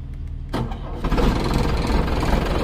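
An engine cranks and catches after a gearbox has been fitted, a brief starter whir followed by the engine firing and settling into a steady, close rumbling idle.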